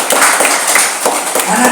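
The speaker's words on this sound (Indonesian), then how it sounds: "Tepuk tangan buat Tuhan Yesus." A church congregation at a Sunday prayer service claps hands in praise, loud busy clapping that briefly rises with voices mixed in.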